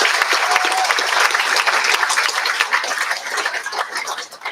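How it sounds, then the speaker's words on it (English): A graduation ceremony audience fills the hall with sustained, loud applause that tapers slightly toward the end. "applause."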